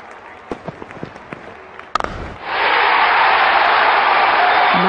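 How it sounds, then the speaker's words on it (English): After a few scattered thumps and claps, a huge cricket stadium crowd at an India international match erupts into a sustained roar of cheering and applause, loud and continuous to the end. "The crowd is exhilarated."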